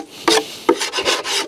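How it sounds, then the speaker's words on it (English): A metal hive tool scrapes propolis and wax off a wooden beehive in several short, rough rasping strokes, close and distinct with no talk. "I take my hive tool, I'm scraping off all of that propolis, all of the wax, anything inside"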